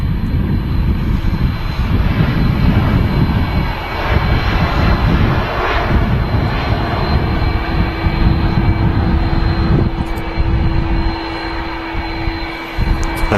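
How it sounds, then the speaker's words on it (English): Boeing 787 Dreamliner airliner departing Manchester Airport, a continuous loud jet-engine roar with deep rumble holding steady for the whole stretch, with no talking heard. "So that first Dreamliner is on its way to Cancun."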